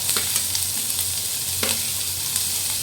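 Chopped onion and carrot fry in a pan with a steady close sizzle, broken by a few sharp clicks and scrapes of stirring.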